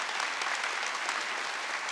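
A church congregation at a Korean Sunday worship service applauds in a dense, even wash of clapping that runs without a break.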